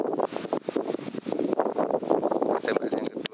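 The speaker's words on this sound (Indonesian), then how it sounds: "anginnya kencang sekali" Strong wind buffets the microphone outdoors, making a continuous, loud, gusting roar that fluctuates throughout the short stretch.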